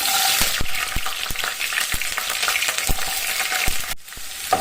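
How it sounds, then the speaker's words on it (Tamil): Peeled garlic cloves fry in hot oil with cinnamon and cloves for tomato rice paste, a steady close sizzle broken by sharp spoon taps and stirring, and a brief dip near the end. "எண்ணெய் காஞ்சிருச்சு இதில் பட்டை லவங்கம் சேர்த்துக்கலாம் இப்போ இதோட உரிச்சு வச்சுருக்க பூண்டு சேர்த்துக்கலாம்"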